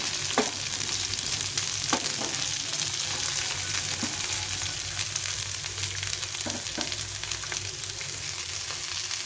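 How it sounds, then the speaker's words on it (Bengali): Diced capsicum frying in a pan, a steady close sizzle with occasional light clicks of stirring throughout, no voices. "ক্যাপসিকামটা একটু ভেজে নেবো।"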